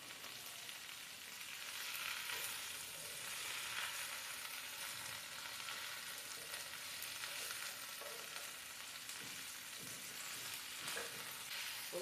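Mint and coriander sauté in a small kadai with a constant bright sizzle and crackle, faint and even, with occasional stirring and no talk.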